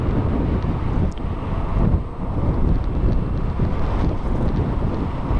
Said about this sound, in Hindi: आपको आ रही होगी शायद हवा, बहुत हवा है।